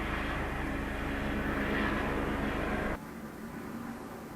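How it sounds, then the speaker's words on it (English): A loud helicopter passes overhead outside, its steady broadband roar filling the space before dropping off sharply partway through, leaving a quieter hum. No one speaks. "we'll just let the loud helicopter pass outside."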